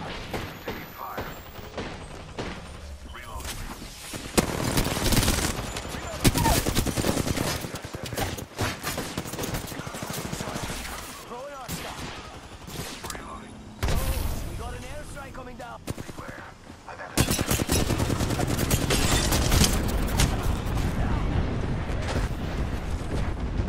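Bursts of rapid gunfire and occasional explosions in Apex Legends, loud and continuous with brief lulls, while game voices speak over the shooting.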